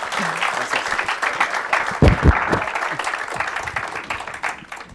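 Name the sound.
audience applause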